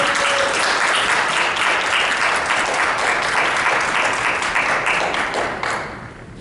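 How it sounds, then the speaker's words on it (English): Audience at an Alpha Sigma Lambda honor society ceremony bursts into loud, dense applause, steady clapping from many hands that holds strong throughout before starting to thin and fade in the final second. "we're going to give this person the biggest round of applause."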